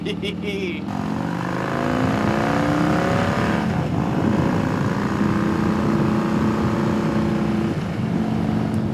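A Harley-Davidson Heritage Softail fitted with Willie G chrome accessories is ridden, heard on board as a loud, steady engine drone under heavy wind rumble.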